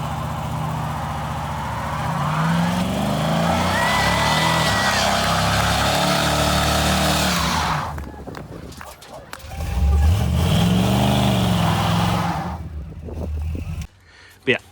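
A Chevrolet Silverado HD with a 6-liter LS engine fitted with headers runs with a loud, steady rumble that dips and rises again, with people talking over it.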